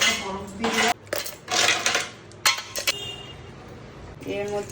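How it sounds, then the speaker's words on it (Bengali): Four or five ice cubes drop into a mixer jar for cold coffee, giving a few bright, close clinks and knocks in short bursts, with a voice talking over and between them. "এবার আমি মিক্সারের মধ্যে 4-5টা বরফ দিয়ে দিলাম"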